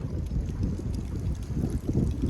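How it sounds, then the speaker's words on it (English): Wind gusts outdoors in the desert, a steady low roar and buffeting against the microphone with no voice over it. "It's a little windy out here today, so you might have to turn the volume up."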